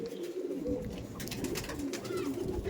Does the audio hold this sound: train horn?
no